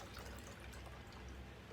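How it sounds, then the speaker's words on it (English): Grapefruit paloma drink being poured into a glass, a steady liquid pour heard faintly through broad background hiss without any break. "You're gonna go ahead and pour out your drink."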